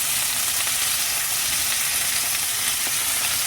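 Lamb chops for tacos frying in a hot pan, a dense, loud, unbroken sizzle up close with faint clicks as the chops are turned over.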